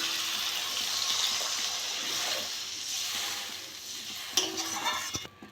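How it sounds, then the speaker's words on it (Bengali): Water is poured into a simmering fish curry masala for Silver Kalf fish jhal, giving a steady broad rush and hiss that swells and fades, with a few clinks near the end and no talk. "আমি এবার জল দিয়ে দেবো"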